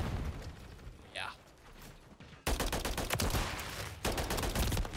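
Video-game gunfire in a shooter, rapid bursts of automatic shots that start abruptly partway through and continue loud and dense to the end, with a short gap before a second burst. Quieter game sounds come first.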